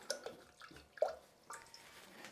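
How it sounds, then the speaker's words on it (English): A watercolour brush is rinsed in a small pot of water, giving quiet, close splashes and drips in a few brief bursts. No one speaks. "So I rinse that out"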